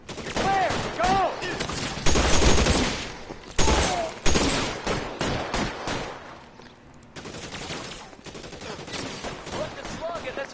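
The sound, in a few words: gunfire in a shootout, from the video game L.A. Noire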